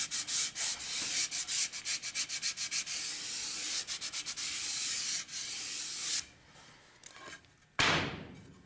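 Wood molding pieces are hand-sanded in quick, rhythmic back-and-forth rubbing strokes, close and steady, before the sanding stops. A few knocks and a sharp clunk follow, with no talking.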